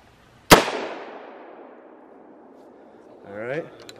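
A single sharp 5.56 FMJ rifle round strikes a level 4 ceramic armor plate, a loud cracking report with a long decaying tail, followed a few seconds later by a brief voice.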